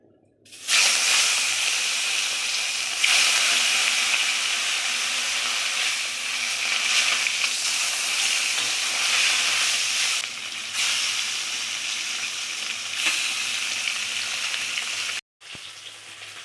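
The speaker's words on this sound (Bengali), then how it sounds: "সাদা তেল দিয়েছি, তেলটাও গরম হয়ে গেছে কড়াতে। এবার মাছগুলো আমি ছেড়ে দেব।" Katla fish pieces frying in hot white oil in a kadai, a loud broad hiss and sizzle close up that holds steady with brief surges, then cuts out near the end.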